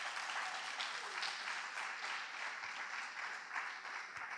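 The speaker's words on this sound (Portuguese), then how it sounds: "Você pode aplaudir o Senhor?" A church congregation bursts into applause in praise at a Portuguese-language service, a steady dense wash of many hands clapping at moderate distance, continuous for the whole stretch with no voices standing out.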